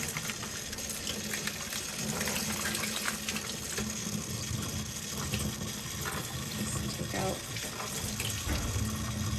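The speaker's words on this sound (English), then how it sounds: "give it a rinse with water" Steady running tap water splashes continuously while pickled mustard is rinsed under it, with a brief spoken remark partway through.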